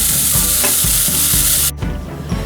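Peppers, onions and turkey meat sauteing in a pan, a loud close sizzle with rhythmic stirring scrapes, the hiss dropping abruptly near the end as the cooking noise shifts.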